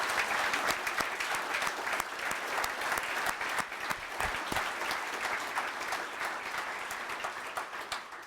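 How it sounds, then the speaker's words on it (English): An audience at a softball Hall of Fame awards ceremony applauds the class of 2023, with steady, fairly distant clapping throughout that slowly thins toward the end. "how about a round of applause once again for the class of 2023"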